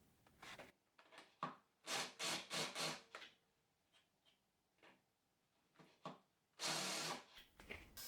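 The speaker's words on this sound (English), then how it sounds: "I trim the ends using a special end trimmer which I was also given." A pen blank of unidentified wood being squared off with a pen end trimmer, producing short rasping, grinding bursts in close, uneven pulses with quiet gaps between them.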